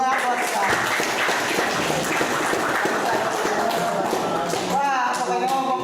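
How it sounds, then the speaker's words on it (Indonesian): A classroom of students claps together for their teacher, a dense steady patter of many hands that fills the room, with a voice rising over it near the end. "Tepuk tangan buat kita."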